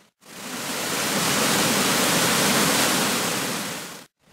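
River water pours over a weir in a dense, steady roar of broadband rushing noise, loud and close, holding constant for about four seconds with no voices.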